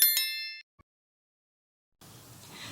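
A bright notification bell dings once at the start and rings out briefly before cutting to silence, followed by a faint background hiss.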